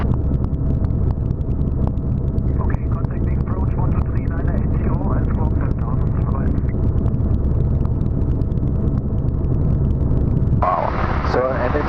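Airbus H125 helicopter flying at low level over vineyards near Frankfurt, a constant loud rotor and engine drone with wind rush heard from inside the cabin, steady throughout with a brief burst of higher noise near the end.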